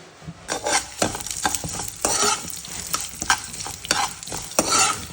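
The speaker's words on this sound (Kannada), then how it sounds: "ಈಗ ಜೀರಿಗೆ, ಮೆಣಸು, ಮೆಂತ್ಯ, ಸಾಸಿವೆ ಇಷ್ಟನ್ನು ಹುರ್ಕೊಳ್ಳೋಣ" Cumin, pepper, fenugreek and mustard seeds roast in a little oil for temple-style Melukote puliyogare, giving a close, lively sizzle broken by repeated scraping and stirring strokes of a spoon against the pan, with no talking.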